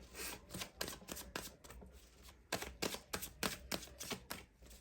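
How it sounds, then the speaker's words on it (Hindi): Tarot cards are shuffled and drawn in a run of quick, crisp riffling flicks that come in two bursts, fairly close and soft, with no talk over them. "चार कार्ड्स और निकालेंगे"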